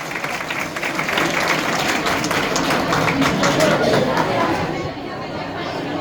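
Applause and cheering from a crowd at a temple anniversary festival prize-giving in a village, steady and dense for the whole stretch with background chatter mixed in, easing slightly near the end.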